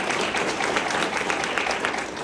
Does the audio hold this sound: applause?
yes